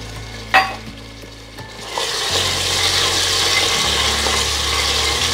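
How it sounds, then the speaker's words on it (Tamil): Large onions and tomatoes sautéing in a pan, a close, continuous sizzle with scraping stirs and a sharp clack near the start, the frying growing louder and steadier as it goes on. "ஸோ அதனால் பெரிய வெங்காயமே கொஞ்சம் நிறையா சேர்த்துட்டு வதக்கிக்கலாம்"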